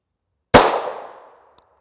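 A single M855 rifle round fired in a helmet ballistic test, one sharp loud crack with a short ringing decay, then silence.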